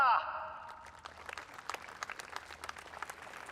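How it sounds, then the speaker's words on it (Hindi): An audience greets a pair of dancers with light, scattered clapping that starts after a brief tone and carries on faint and uneven, individual claps standing out from a thin background. "जोरदार तालियों से स्वागत करें उनका"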